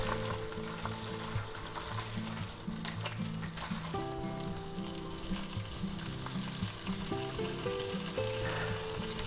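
Egg and ham for a western-style sub sandwich fry in a pan with a steady, close, continuous sizzle that stays even throughout, with no one speaking.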